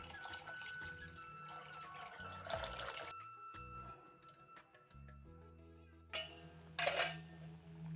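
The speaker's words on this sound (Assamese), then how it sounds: "এতিয়া মই পানী দি দিছোঁ, যিহেতু মই জোল বনাম।" Water poured into a cooking pot while making fish curry, a splashing, trickling stream alongside clinks of utensils and pans, fairly quiet and close, with a steady electronic tone running through parts.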